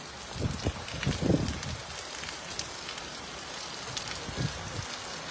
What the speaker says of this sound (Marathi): शहर परिसरामध्ये आणि काही ग्रामीण भागामध्ये पाऊस पडत आहे